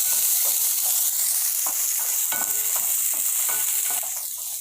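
Chopped onion and three green chilies sautéing in a pan for semiya upma, a steady loud sizzle with repeated scraping stirs across the whole stretch, no voices.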